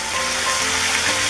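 Food hitting olive oil in a very hot pan in a kitchen, a loud, steady hiss and crackle of frying heard up close and alone, without pause for just over a second.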